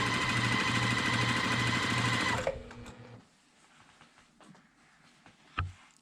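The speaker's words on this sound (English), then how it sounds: "sew it together. And make sure my seams are laying flat." A sewing machine runs in a fast, steady burst while stitching quilt block pieces together, then stops, leaving quiet handling noises and a soft knock.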